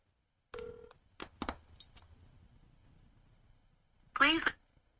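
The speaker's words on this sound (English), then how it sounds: "Twin, answer your damn phone" A phone call ringing unanswered, with a few tones and clicks heard through a handset at low volume between stretches of quiet, as someone speaks over it.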